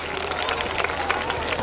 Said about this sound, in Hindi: जोरदार ताली होगा इनके लिए।